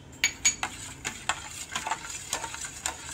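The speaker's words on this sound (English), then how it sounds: "We will mix all the ingredients well to give a nice flavor to it." Ingredients for aam panna mixed in a pot, a spoon stirring and clinking against the sides in a quick run of light, close taps and scrapes, with no talking.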